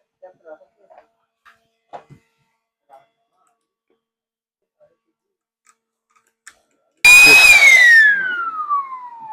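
A cordless electric blower starts up during a test after a few scattered taps and knocks, then runs loud and close with a high whine that slowly drops in pitch.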